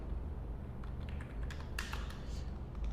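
Typing a title on a computer keyboard, a quick run of light, close key clicks over a low steady background hum.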